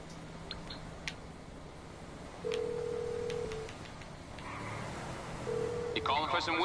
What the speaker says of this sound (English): let's see if we can call in Tom's car yet.